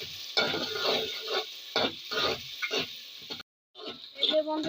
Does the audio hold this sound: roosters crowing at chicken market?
no